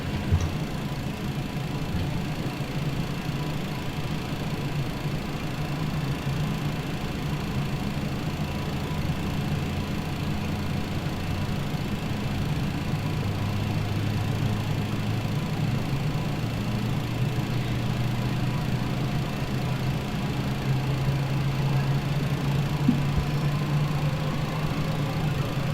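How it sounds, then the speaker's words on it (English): Engine number 2 of an MD-11F freighter spools up in MSFS 2020, a steady low droning hum that grows slightly louder with a rising whine emerging partway through, alone without talking. "And engine number 2 is starting nicely."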